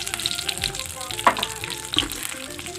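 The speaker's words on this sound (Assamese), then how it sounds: "এতিয়া ইয়াতে মই তেজপাত আৰু শুকান জ্বলা মই দি দিছোঁ" Bay leaves and dried chilies sizzling as they hit hot mustard oil in a pan, a steady close crackling fry with a few sharper pops, no talk.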